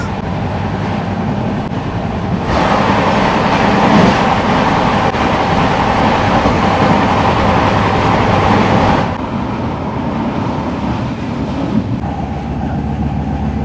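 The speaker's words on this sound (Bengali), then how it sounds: "এখন ক্রস করবে কুলিক এক্সপ্রেস" The Kulik Express train passes close by on the rail line, a loud sustained rumble and rattle of carriages that swells after a few seconds, holds steady, then drops back to a lower roar as it moves on.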